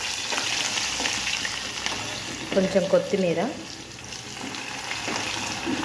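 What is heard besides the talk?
onion frying in oil for tempering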